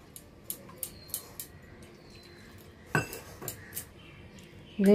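A thin pumpkin-fritter batter with chopped green chilli and water gets whisked in a bowl, heard as a series of sharp, close clinks and knocks of the utensil against the bowl, irregular and spaced out, ending in a louder clatter.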